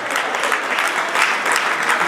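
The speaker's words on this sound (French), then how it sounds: "Là-bas, ça s'applaudit." Applause from a party crowd at a Congolese rumba evening, dense steady clapping that fills the room and carries on throughout.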